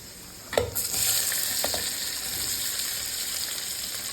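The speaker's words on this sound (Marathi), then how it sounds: "आता यात घालूया चिरलेला कांदा" Chopped onion drops into hot oil with asafoetida and dried red chillies, bursting into a loud sizzle that holds steady, with a couple of stirring scrapes.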